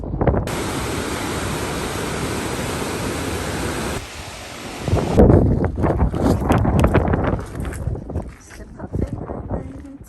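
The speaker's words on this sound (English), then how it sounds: "Very large waterfall." A very large waterfall roars as a loud, steady broadband rush for about four seconds, then the sound turns rougher and buffeted by wind and handling noise, close to the microphone.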